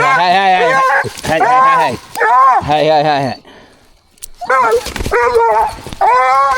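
A young hunting dog yips and barks in quick, loud bursts with whimpering tones, close by, with short gaps between volleys while a person speaks nearby.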